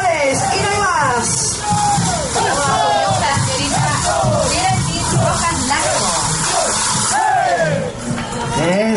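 An audience applauds and cheers a Caporal dance group, a dense and continuous wash of clapping and crowd noise with voices calling out throughout.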